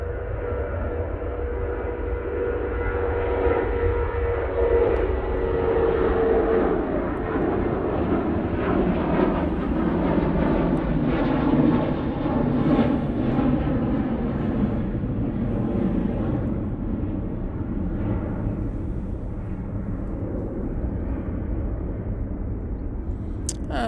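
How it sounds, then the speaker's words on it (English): Ryanair jet taking off from Manchester Airport bound for Marrakesh, a sustained loud engine roar with a rising whine that swells toward the middle and then slowly fades as the aircraft pulls away. "There goes the Ryanair off to Marrakesh."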